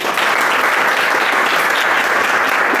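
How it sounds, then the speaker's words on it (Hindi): An audience breaks into loud, continuous applause at a Hindi motivational talk, a dense wash of clapping that stays steady from start to finish with no voices over it. "ताली बजाइए इनके लिए।"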